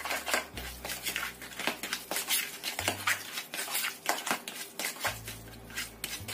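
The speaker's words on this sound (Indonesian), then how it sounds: "Kita aduk sampai tercampur rata lagi." Batter for a rice-vermicelli snack is stirred in a bowl after one egg is added: repeated scraping, clinking strokes in an uneven rhythm, close and fairly quiet over a low steady hum, with no talking.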